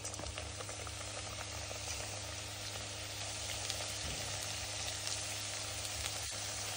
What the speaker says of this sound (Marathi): आपण मीडियम साईज मध्ये तेल तापून घेऊन करंज्या तळून घेऊ।